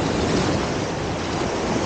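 Small sea waves wash in on a calm, windless morning, a steady soft rushing surf that fills the short stretch without pause or voices.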